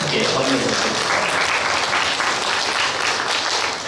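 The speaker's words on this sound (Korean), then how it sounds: "박수로 좀 크게 환영해 주시겠습니다" Steady, dense applause from an audience at a disability-services workshop panel, welcoming a panelist to the table; broadband clapping sustained and even for about four seconds with no pauses.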